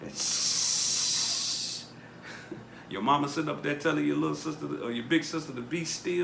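A hot comb being pulled through hair gives a loud, steady sizzling hiss for about two seconds, and then a person speaks with faint crackles heard under the talk.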